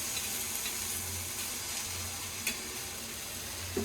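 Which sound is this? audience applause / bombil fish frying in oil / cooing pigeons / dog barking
bombil fish frying in oil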